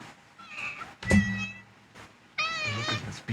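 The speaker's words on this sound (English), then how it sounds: "Meow meow. My cat." A pet tiger-striped cat meows close by, a couple of loud, drawn-out calls with a soft thump between them and no talk.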